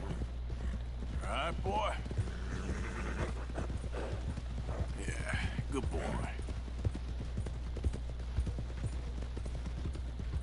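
A horse walks in a PS4 video game, its hooves clip-clopping in a steady rhythm alongside game music and someone speaking gently to the animal.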